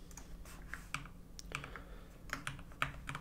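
Quiet, close computer keyboard typing as a GraphQL mutation is entered in Apollo Playground, a few light scattered keystroke clicks over a low background hum.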